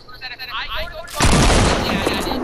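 Fortnite gunfire erupts as a sudden loud burst halfway through, after quieter talk, and then keeps up as a dense wash of shots and blasts.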